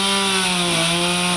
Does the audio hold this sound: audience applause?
no